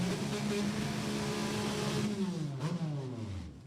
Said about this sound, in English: Jay Schoenberger's car does not sound like your standard V8 because it's not. It's a V6.